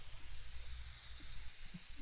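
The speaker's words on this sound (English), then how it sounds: "The spray can." A steady, even hiss from a spray can in the video game Teardown, continuous for a couple of seconds at moderate level with no voices over it.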